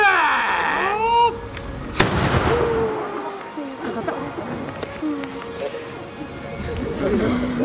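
Matchlock guns fire a volley at a musket corps firing demonstration during the Dosetsu-ko festival: one sharp, loud blast with a rolling echoing tail, with people talking before and after.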